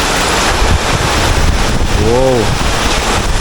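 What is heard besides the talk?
Hurricane Beryl winds in Kingston, Jamaica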